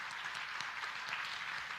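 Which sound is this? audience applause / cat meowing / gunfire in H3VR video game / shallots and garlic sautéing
audience applause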